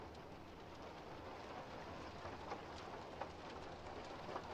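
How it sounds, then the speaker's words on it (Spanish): Heavy rain in the horror game Fobia: St. Dinfna Hotel, a steady, quiet broadband hiss with occasional faint ticks and patters, and no voices. "Está lloviendo mucho."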